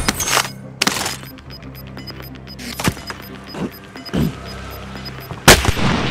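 Gunfire rings out in the Call of Duty Warzone video game, with several sharp, loud shots and cracks scattered unevenly across the scene, some isolated and some in quick clusters, over a low background rumble.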